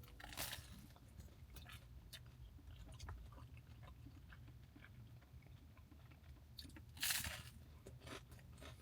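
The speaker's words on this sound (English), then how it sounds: "let me get this bite." Someone bites into a slice of New Jersey pizza, giving a close, crisp crust crunch at the start and again near the end, with soft chewing and mouth sounds in between and no talk.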